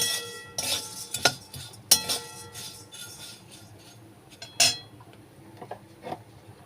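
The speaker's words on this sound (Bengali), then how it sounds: "এরকম করে নাড়িয়ে চাড়িয়ে সব কটা মুড়িতে ঘি আর লবণটা মিশিয়ে নিতে হবে।" A spoon stirs puffed rice with ghee and salt in a bowl, producing sharp, irregular metallic clinks and scrapes against the rim over a soft rustle, close by.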